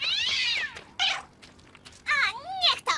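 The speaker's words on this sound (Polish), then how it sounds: "Na torze jest kot!" Cartoon cat meowing and yowling in an animated kindergarten-themed show, several drawn-out rising and falling meows, loud and close, with brief bursts of other sound between them.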